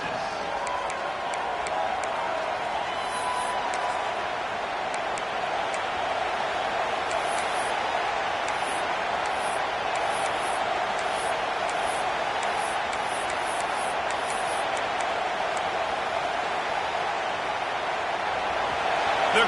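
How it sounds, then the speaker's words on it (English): Stadium crowd at a college football game cheering for the home defense near the red zone, a broad continuous roar with scattered whistles and whoops, a commentator talking over it. "The crowd getting behind this defense as they try to get a stop in the red zone"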